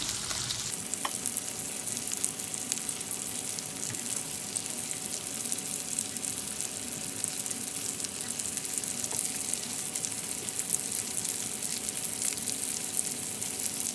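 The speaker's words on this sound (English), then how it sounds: "We're going to let that cook on each side for about 3 minutes" Sausage cut on the diagonal fries in a pan for a shrimp and sausage jambalaya, a constant bright sizzle and crackle that holds steady throughout with no talking.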